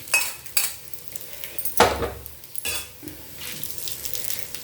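Fried ingredients scraped out of a hot kadai into another vessel: sharp metallic clanks and scrapes of a spoon against the pan in uneven bursts, with a faint sizzle between them.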